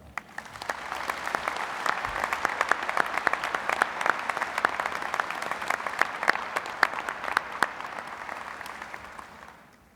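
A graduation ceremony crowd at Southeast High School applauds the outgoing principal, Mr. Tolson, with a full, steady round of dense clapping that swells in quickly, holds for several seconds and slowly fades.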